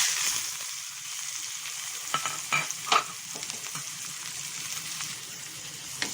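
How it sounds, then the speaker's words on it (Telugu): Chana dal and chilies crackle in hot oil for a tempering, a steady close sizzle with a few sharper pops and stirring clatters around the middle, no talking. "సో పోపు మరుగుతుంది, ఆయిల్ మరుగుతుంది"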